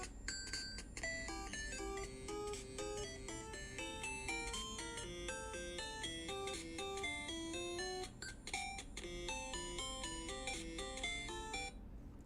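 A video game melody plays as a phone ringtone, bright electronic notes repeating in a quick looping pattern, fairly faint and uninterrupted.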